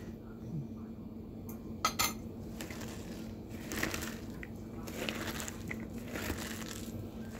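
A fork clinks and scrapes against a bowl while mixing a small amount of ingredients for a simple home meal, with soft irregular stirring scrapes and a couple of sharper taps, fairly close and continuous.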